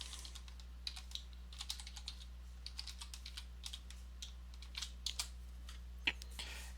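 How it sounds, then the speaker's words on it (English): Close computer keyboard typing of a password: a quick run of light, irregular key clicks over steady low hum, with no voices. "type in our password,"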